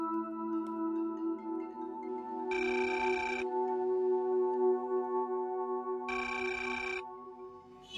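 A phone ringtone rings twice in bright electronic bursts, each lasting about a second, over a steady background drone.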